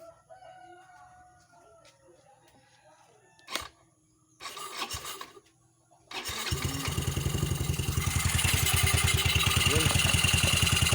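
A Yamaha Mio i125 scooter engine cranks briefly, then catches and settles into a steady, loud idle, preceded by a rooster crowing in the background.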